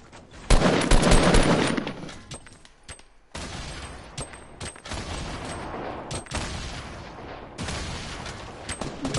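Fortnite gunfire: a loud, close burst of rapid shots at the start, followed by repeated sharp gunshots and scattered impacts spread unevenly through the rest of the fight.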